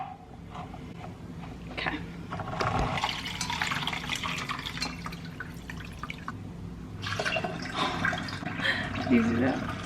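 Homemade lemon ginger tonic is strained and poured, giving a steady, close wash of trickling and dripping liquid that swells and eases over about ten seconds, with a faint voice in the background.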